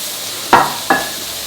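Chopped spring onion tipped into a hot pan, two quick sizzling hisses with a scrape of stirring, close and fairly loud over a steady background hiss.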